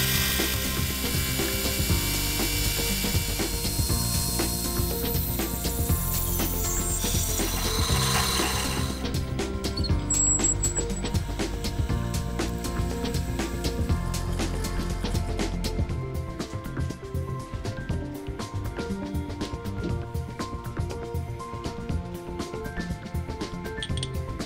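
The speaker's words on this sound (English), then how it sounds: "I drilled and then reamed the slug of aluminium to match the outside diameter of the arbor" Lathe drilling and then reaming an aluminium slug, a continuous dense machining whir and chatter with rhythmic mechanical ticking, loud and close throughout, brightest in the first half before settling lower.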